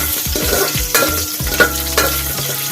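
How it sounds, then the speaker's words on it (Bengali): Bay leaves, cinnamon, cloves, cardamom, mace, cashews and raisins fry in hot fat in a pan for Basanti pulao. A steady sizzle runs under repeated scraping stirs and clinks of a spoon against the pan. "তেজপাতা, দালচিনি, লবঙ্গ, এলাচ, কাজু কিশমিশ, জয়িত্রী দিয়েছি। হালকা ওগুলোকে ভেজে নেব।"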